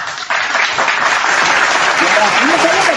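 Applause from an audience at a heated religious debate, a dense steady clapping that swells quickly and holds loud, with voices talking over it near the end.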